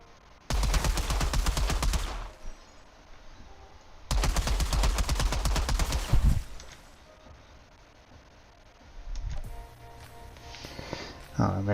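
Two long bursts of rapid automatic gunfire in the video game Outriders, loud and dense, separated by quieter gaps with faint background sounds.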